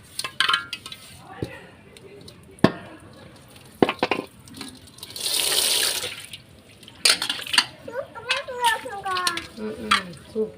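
Water splashes and runs while a kadai pan is washed, with scattered metallic clinks and scrapes and a steady rush of water from a tap in the middle, sounding close and busy.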